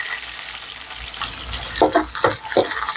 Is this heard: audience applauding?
no